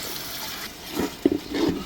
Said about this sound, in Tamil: இப்போ இந்த மசாலாவுக்கு ஏற்ற அளவு லைட்டாக தண்ணி சேர்த்துக்கணும்.